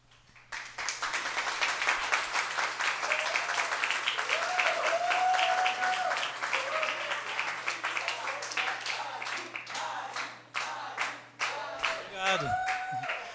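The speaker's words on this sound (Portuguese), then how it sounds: "quem gostou, bata a palma," An audience at an open-mic poetry night in Brazil bursts into sustained applause that swells, thins into scattered claps, then picks up again, with voices and cheers mixed in.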